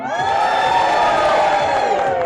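A crowd at a lumberjack show in Ketchikan, Alaska, cheers and whoops loudly and steadily, with a rising chorus of many voices.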